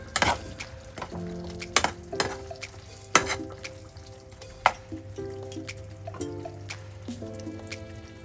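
Katla fish curry with coriander leaves stirred in a pan: a soft bubbling sizzle beneath repeated ringing clinks and scrapes of a metal spoon, close by.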